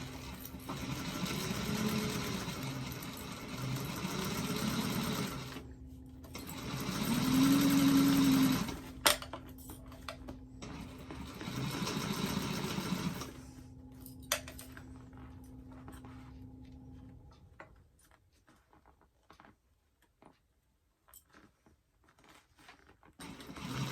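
A sewing machine back stitching a seam on a doctor bag runs in several short bursts of steady motor whir, close and clear, with brief pauses between, then falls quiet near the end.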